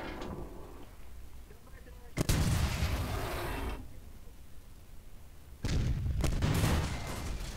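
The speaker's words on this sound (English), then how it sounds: "Yo, that tank just got blown the fuck up." A tank blows up in a World War II Soviet roleplay game: two heavy booming blasts, a few seconds apart, each with a long rumbling tail, over quieter background noise.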